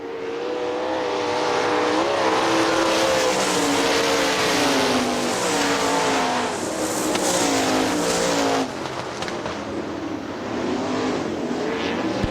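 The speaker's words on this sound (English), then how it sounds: "Carl Fry Jr., Davy Brown coming around a complete lap." 410 sprint cars race around Hartford Speedway Park in Michigan in 1999, their engines a loud, continuous roar with wavering pitch as the pack circulates and passes close by.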